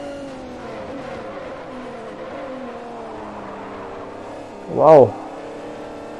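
Aston Martin race car in Forza 4 holds a steady, droning engine note that dips slightly in pitch, with a brief excited shout from a man near the end over the engine.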